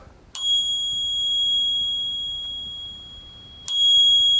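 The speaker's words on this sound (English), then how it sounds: "Listen to this bell." Two bright, clear dings from the bicycle bell on a VANPOWERS City Vanture e-bike, each ringing out with a long, pure sustain. The second strike comes about three seconds after the first, and no one talks.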